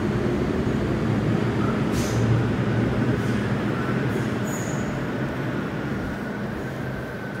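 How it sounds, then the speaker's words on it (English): A subway train arriving at a platform in Hong Kong rumbles steadily nearby with a continuous low roar, faint metallic squeals rising briefly above the din. "But the train is arriving though, so let's run over quickly."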